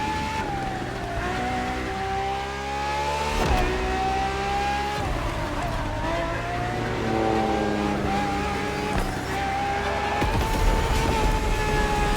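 In the racing game The Crew Motorfest, a Ferrari FXX K engine revs loudly and continuously, its pitch climbing and dropping through repeated gear changes, heard close with no talking.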